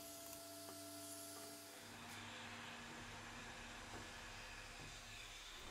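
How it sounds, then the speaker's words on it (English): Steady whirring blow of a heat gun being used to strip decals off a fiberglass panel in a fabrication shop, with a constant airy hum and a faint tonal whine running the whole time, close and unbroken. "I'm going to go ahead and remove all the decals with this heat gun."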